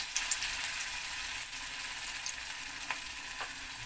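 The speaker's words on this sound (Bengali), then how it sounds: "এবার তেলটা আমার গরম হয়ে গেছে আর দেখো এই যে মাখা যে জিনিসটা রয়েছে সেইটাকে আমি এই রকম শেপ করে করে এখানে তেলের মধ্যে দিয়ে দিচ্ছি" Shaped jackfruit-core mixture sizzles steadily in hot oil at close range, a dense continuous crackle with a few sharper pops and no talking.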